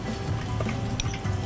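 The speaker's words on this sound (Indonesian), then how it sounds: "Jadi ini kita mau tumis dulu dia sebentar, tapi jangan terlalu lama biar dia nggak gosong" Garlic stir-fries in a pan for nasi goreng with a soft, steady sizzle and a faint scrape or two of stirring, quiet and close, with no voices.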